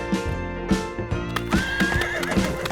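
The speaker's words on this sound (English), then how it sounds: "Peppa loved watching the horses." A horse at a horse farm gives a loud, shrill whinny over a rhythmic clip-clop of hooves, with the neigh rising and wavering near the middle.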